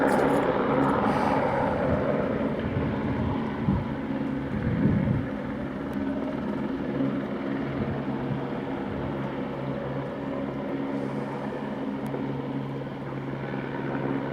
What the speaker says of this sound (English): That helicopter been running back and forward over here.